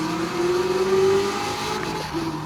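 A Corvette ZR1 engine revs on a lap of the Nürburgring in Gran Turismo 7 on sports tires, holding a rising steady drone that dips and then climbs again over the short stretch, with no talk.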